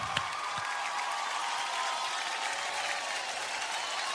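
Sustained applause from an award show audience after the Best Ongoing Drama Series win at the Renault Star Guild Awards, a steady dense clapping at even loudness throughout with no talk over it.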